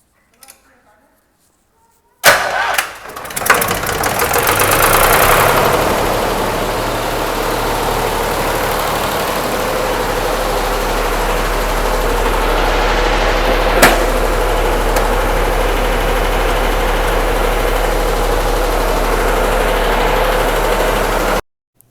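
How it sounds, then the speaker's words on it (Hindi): A generator at a rural home starts up with a brief sputter, then settles into a loud, steady, humming drone that continues unchanged until it cuts off at the end. "तो फिर मैं जनरेटर स्टार्ट करने गई"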